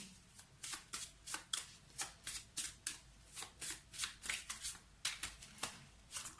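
Tarot cards shuffled by hand, a quick regular run of crisp riffling flutters, about three per second, close and soft, with no talking.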